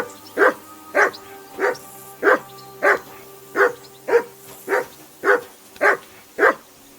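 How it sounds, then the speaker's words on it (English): A dog barks steadily in the video game Kingdom Come: Deliverance II, about eleven evenly spaced barks over several seconds, moderately loud and close, with no talking. "Whistle at that mutt of yours to stop barking!"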